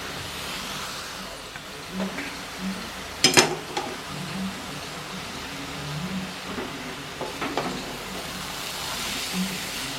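Grated paneer being stirred into potatoes in a pan for a vegetarian ghoti gorom dish wrapped in bottle gourd leaves, heard as faint scraping with a brief louder clatter of spoon against pan, then softer stirring.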